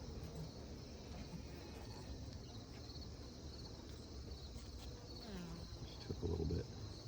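Honeybees feeding on Hive Alive pollen patties in a hive, a soft continuous insect buzz and hum close by, steady throughout with a slightly louder burst near the end.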